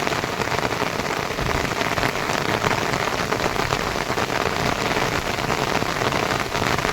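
Heavy rain pours down on a Telugu farm where goats are out in the open, a dense, loud, unbroken roar of drops drumming on surfaces, steady for the whole stretch with no voices.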